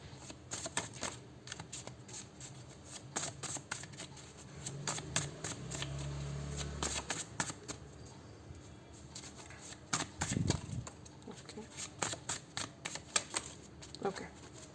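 Message cards are shuffled and handled in a quiet room, with bursts of rapid crisp riffling and flicking taps throughout and a soft voice now and then.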